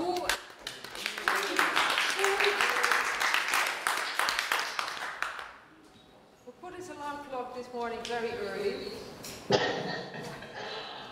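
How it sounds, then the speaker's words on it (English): Warm round of applause from a meetup audience, dense steady clapping for about five seconds before it dies down and a person starts speaking. "I would like to have a very, very warm applause for Angus, who..."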